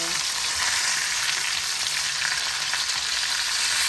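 Steak sizzles steadily and loudly on a grill outdoors on a sunny day, a continuous dense crackle with no talk.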